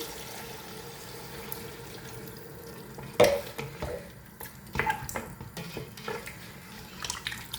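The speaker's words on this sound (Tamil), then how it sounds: "இப்போ தண்ணியை விட்டு அவிய விடுவோம்" Water splashes and trickles into a pot of mutton biryani with a few clinks of metal, fairly quiet and close, with faint kitchen clatter.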